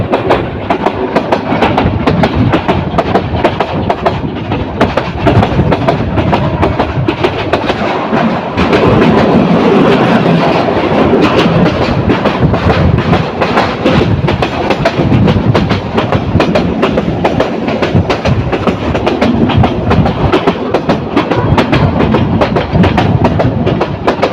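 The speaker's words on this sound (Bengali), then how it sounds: "ট্রেনটি একটি বাক নিচ্ছে যে বাক নিয়ে ট্রেনটি দ্রুত গতিতে সামনের দিকে গিয়ে চলছে" The Kishorganj Express roars fast along the tracks, loud and continuous, with steady rumbling and rapid clatter throughout.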